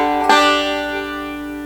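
A single bright chord rings out on an RB75 banjo, struck sharply and left to sustain, its twangy overtones slowly fading with no talking over it.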